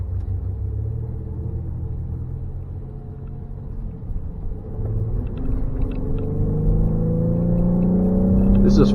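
A Ford Explorer's 3.5 liter EcoBoost engine at full throttle, a loud low rumble heard close from inside the car that swells and rises steadily in pitch as it pulls.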